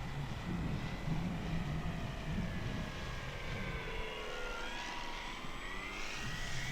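An FMS de Havilland Beaver 2000mm V2 RC plane flies on a windy day, its propeller drone rising and falling steadily at a moderate distance, with wind noise and no talk.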